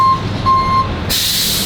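A tow truck's reversing alarm sounds a couple of clear, evenly spaced beeps, followed by a sudden loud hiss like an air brake release.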